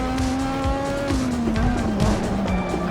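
Race car in the Assetto Corsa video game, set at the 1986 Australian Grand Prix, nearly spinning out, with a loud engine note dipping and rising while tyres squeal in long sliding streaks, close and continuous.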